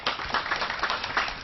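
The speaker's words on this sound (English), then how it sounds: "So big round of applause." An audience applauds at a fashion summit panel, with a short, even patter of many hands clapping close by.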